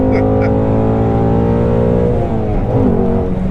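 A Shelby GT350 engine held high near redline, a loud, close, sustained mechanical howl with steady harmonics that climb slightly, filling the cabin with no pause.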